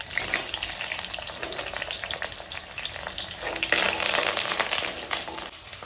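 Shallots and curry leaves fry loudly in hot oil for eggplant curry, a dense crackling sizzle with scattered pops that swells briefly when stirred.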